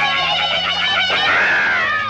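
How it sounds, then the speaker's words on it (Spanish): A person screams loudly, a high sustained cry that rises and falls over a low backing tone, heard alone without other voices. "será verdad que alguien está gritando"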